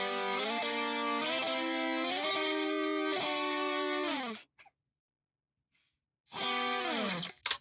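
Two distorted electric guitars play the same ascending line in harmony, slightly out of sync, sustained stepping notes that break into a brief silence and then return, with no talking.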